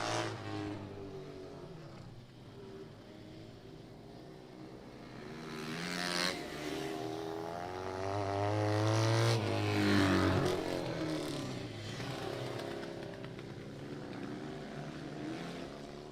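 Racing motorcycles, including a late-model Kawasaki, a big Yamaha and a 1970s two-cylinder, roar past at a dirt track race, engines rising to a loud pass near the middle and then fading.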